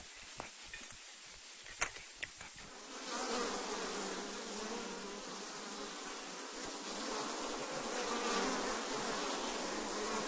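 Honey bees swarm around hive colonies installed four days earlier, a dense continuous buzz that grows fuller and louder after the first few seconds, with a few faint knocks early on.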